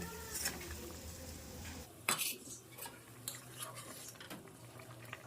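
Pieces of pre-fried rohu fish go into a bubbling Bengali curry with peas, with a sharp splash and clatter in the middle, then utensil clinks and low simmering from the pan. No one speaks.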